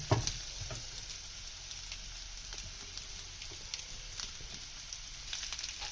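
Potatoes for dum aloo light-frying in oil in a pan, a steady faint hiss and crackle of sizzling that carries evenly throughout with no voices.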